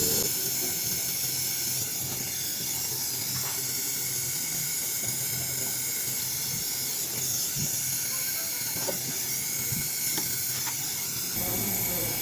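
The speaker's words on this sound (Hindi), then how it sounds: "तो ये हम पीतल के राड की मदद से ये वेल्ड कर रहे हैं।" A brazing torch joins a refrigerator compressor pipe with brass rod, giving a loud, steady hiss that runs unbroken and close, with no talking.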